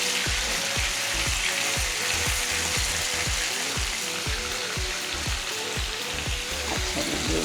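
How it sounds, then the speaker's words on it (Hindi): Minced meat (keema) frying in oil, a dense continuous sizzle with rhythmic scraping strokes of a spoon stirring the pan every half second or so. "ये फ़ौरन फ्राई होना शुरू होगा।"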